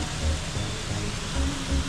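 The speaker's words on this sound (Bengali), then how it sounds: "ওপর থেকে জল পড়ছে, দেখো, একদম ওপর থেকে।" Changey Waterfalls in Pelling, West Sikkim, runs low in the dry season, and the water falling from the hilltop makes a steady, unbroken rushing hiss with a faint low hum underneath.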